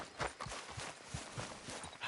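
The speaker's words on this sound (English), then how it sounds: "Damn horse." Hooves of a horse in Red Dead Redemption 2 clop at a steady walking pace, faint and fairly close, roughly seven soft knocks with no voices.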